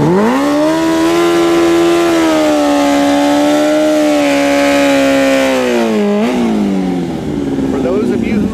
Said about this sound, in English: For those of you who are wondering, that is our CT bag exhaust.